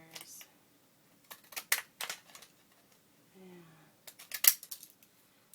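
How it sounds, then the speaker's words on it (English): Paper being cut with Victorian scissors, several quick crisp snips that come in short bursts with quiet gaps between them, and a voice briefly speaking. "Just going to use my Victorian scissors."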